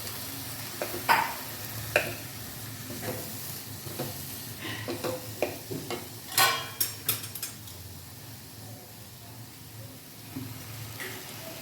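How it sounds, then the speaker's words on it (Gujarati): Potato khichdi being stirred in a pan, with scraping and clinking strokes in an irregular rhythm over a soft sizzle, close and moderately loud, busiest in the middle and tapering off toward the end. "હવે આપણે હલાવી દઈશું।"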